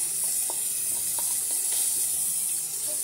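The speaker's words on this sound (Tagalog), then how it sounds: "Ilagay na natin yung sibuyas." Chopped onion frying in a pan gives a steady, bright sizzling hiss that stays even throughout, with a few faint pops and clicks scattered underneath.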